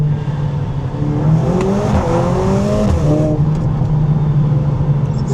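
A Mercedes-Benz CLA 45 S in sport mode on a twisty road, engine climbing through revs with rising harmonic tones and a gear change, loud and close from inside the car with steady road roar.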